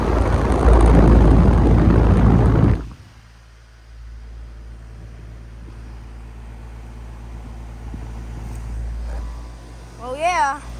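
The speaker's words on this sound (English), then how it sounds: "That compressor is so quiet. Got 1 powerful GE commercial motor" A 2008 Payne air conditioner compressor with a GE commercial motor runs as a steady low hum. A loud broad rush covers it for the first few seconds, then cuts off, and brief voice sounds come near the end.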